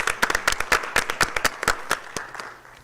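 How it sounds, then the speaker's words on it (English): Applause from the audience at a school board meeting, individual claps clearly distinct and fairly close, a lively patter that thins out and fades toward the end. "Let's give a round of applause."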